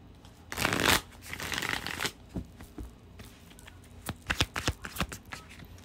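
Tarot cards being shuffled by hand, a long riffling burst early on followed by a run of sharp, quick card flicks and taps, close and clear with no talking.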